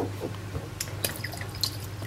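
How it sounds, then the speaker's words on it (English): A splash of Worcestershire sauce is poured into a pot of beef stew, giving a few brief, close drips and a soft liquid patter over a low kitchen hum. "I'm also going to add a splash, sorry, my kitchen's a mess now, a splash of Worcestershire sauce"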